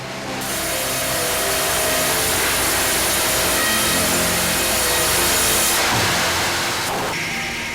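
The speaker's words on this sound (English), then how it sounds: "Each massive trunk is cut in 2 pieces lengthwise, then quarter-sawn for the straightest grain." Massive tree trunks for organ lumber being sawn lengthwise in a workshop, a loud, continuous, grinding machine roar that holds steady for several seconds before shifting in tone near the end.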